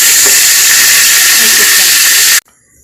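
Whole spices (two bay leaves, a cinnamon stick, mace and star anise) sizzle in hot sunflower oil, a loud, steady, close hiss that cuts off abruptly near the end, leaving near silence.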